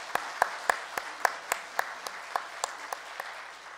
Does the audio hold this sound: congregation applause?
yes